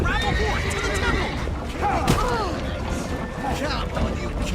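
Horses whinnying loudly over galloping hooves in a Witcher 3 chase scene, with a sharp crash near the middle and game music and voices mixed around them.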